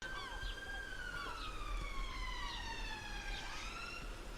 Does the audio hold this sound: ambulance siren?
yes